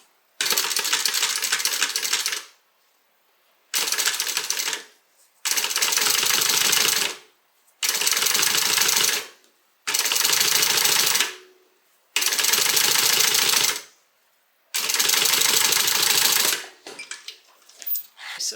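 Sewing machine stitching a zipper seam on a bag, running in seven bursts of rapid mechanical chatter, each lasting one to two seconds with short quiet pauses between, close and clear.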